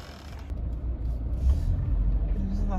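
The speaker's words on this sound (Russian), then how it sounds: "Сейчас меня машина объедет" Car driving past on a road, a low engine rumble swelling as it approaches close by and staying loud, with someone talking over it.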